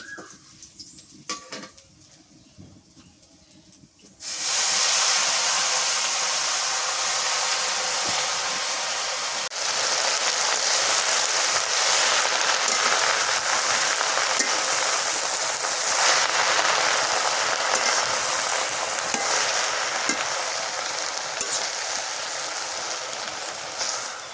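Leafy greens hit hot oil already frying with garlic and chili, bursting into a loud, steady sizzle that holds for the rest of the stretch after a quieter start with light stirring.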